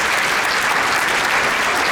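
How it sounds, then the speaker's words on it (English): Audience applause at a nursing awards ceremony for the nominators, a dense, even roar of clapping, loud and continuous from start to finish. "So a big round of applause for our nominators."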